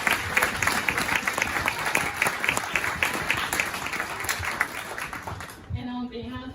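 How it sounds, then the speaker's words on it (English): An audience at a golf charity speaker event applauds steadily for several seconds, dense clapping that cuts off near the end, followed by a voice starting to speak. "Round of applause."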